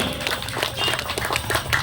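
Applause from the audience at a women's walking race in Maheshtala's Ward 20, a steady patter of many hands clapping at medium distance throughout, with faint chatter mixed in.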